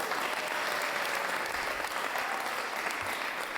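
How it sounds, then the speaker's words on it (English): Guests at a wedding reception applaud the parents with a full, sustained round of clapping that holds at a steady level from start to finish. "Please give them a round of applause."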